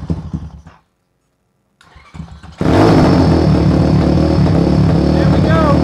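A Zongshen ZS190 motorcycle engine with electric start, fitted to an Apollo RFZ X15 bike, cranks and fires for the first time, then settles into a loud, steady idle after some brief voices and a short silence.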